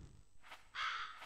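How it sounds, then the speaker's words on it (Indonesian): A crow caws a couple of times inside the Demon Slayer video game, the calls fairly clear and close against a quiet background, with no talking. "di sana ada burung gagak"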